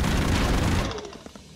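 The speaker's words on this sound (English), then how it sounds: "it's a chain gun, so obviously I want to just put all the bullets in people" In the video game Broforce, a chain gun fires in a loud, dense burst of rapid shots that stops abruptly, leaving a few scattered pops and clatter.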